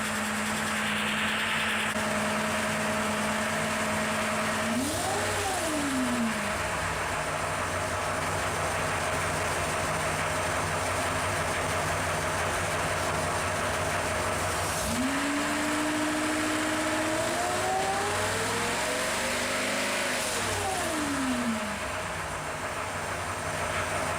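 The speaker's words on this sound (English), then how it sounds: "after that, the engine really quieted down, and it idles pretty smoothly" A Ford 302 V8 fitted with low-cost roller lifters idles steadily on an engine dyno, a smooth continuous drone with a couple of brief pitch swells, no voices.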